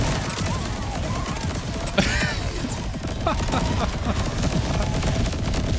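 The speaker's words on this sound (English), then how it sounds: "So many explosions." Rapid bursts of gunfire and explosions in Borderlands 4 crackle and pop in quick succession, dense and fairly loud throughout.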